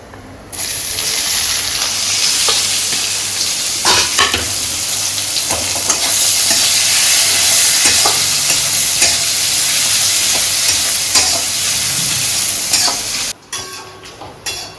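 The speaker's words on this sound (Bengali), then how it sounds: "এই যে আমার পেঁয়াজ ভাজা হয়ে গেছে" Onions fry in oil with bay leaf and cumin for a Bengali sea fish curry, a loud steady sizzle with intermittent stirring scrapes before it cuts off near the end.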